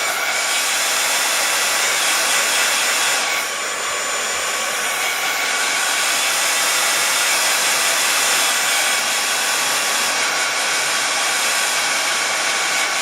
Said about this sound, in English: gonna use my heat tool again to dry